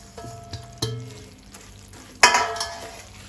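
A warm sesame and jaggery ladoo mixture is stirred in a pan with the gas off, giving a few scattered scrapes and knocks against the metal, one louder clatter among them, over a faint low sizzle.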